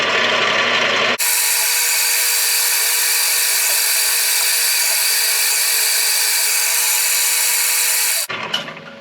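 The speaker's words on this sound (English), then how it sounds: "all that's left is drill the hole" A steady, loud milling machine whine runs for several seconds as it drills a hole through a workpiece held in a vise, then cuts off abruptly with a few rattling clunks.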